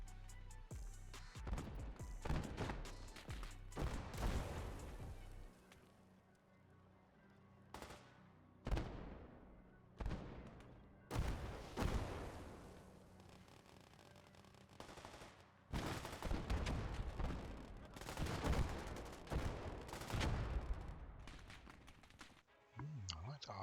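Artillery fire and gunfire in a retro-style World War II game mod, with repeated booming blasts and crackling shots in dense bursts, some loud and near, with quieter gaps and a person talking over parts of it.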